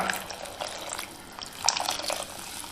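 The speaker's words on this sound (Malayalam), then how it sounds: "കുടംപുളി വെള്ളത്തിലിട്ട് വെച്ചത് പുളിവെള്ളം കൂടി ഒഴിച്ചു കൊടുക്കാം" Tamarind water from soaked kudampuli is poured into a traditional clay pot for fish curry, giving a short, close splashing and trickling that rises and falls over a few seconds.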